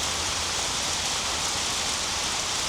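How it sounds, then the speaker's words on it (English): Steady rain falling on a roof, heard from underneath: an even, close hiss of countless drops with no pauses and no voices. "Rain. It's raining."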